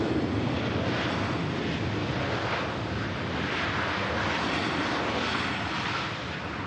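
Steady, loud roar of an airplane engine at Manchester Airport, a continuous broadband rumble with some wind buffeting on the microphone and no voices.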